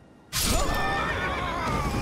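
A horse neighs loudly in the Elden Ring video game, a close whinny that bursts in after a brief quiet moment and rings on for about two seconds with no talk over it.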